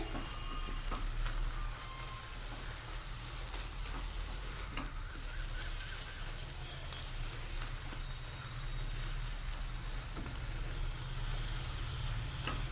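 A potato and prawn curry with kulfi greens bubbles and sizzles softly in a pan while it is stirred, giving a faint, steady hiss with scattered crackles and no talking.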